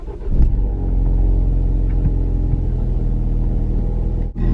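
A Ford Focus RS with an FPM375 tune and Mountune breather plate and SSC parts starts and settles into a loud, deep idle, a steady rumbling drone with a brief dip near the end.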